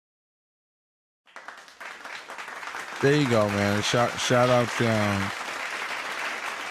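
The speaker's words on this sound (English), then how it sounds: "Why can't we just get a regular good clapping here?" Audience clapping during a magic show: a moment of silence, then a sustained patter of clapping rises and continues while someone speaks over it near the middle.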